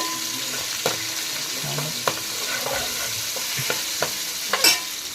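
Fish curry masala sizzles as it fries in a pan, with a spoon stirring and scraping through it in scattered sharp clicks over a steady low hiss, close by and with no voices.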